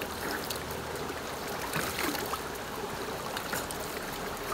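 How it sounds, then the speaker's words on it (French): Cold water at about 12 degrees splashing steadily over a person's body in an outdoor nature shower, a continuous close pouring and trickling wash with no pauses. "on prend son eau à 12 degrés, hop, on s'en met partout sur le corps"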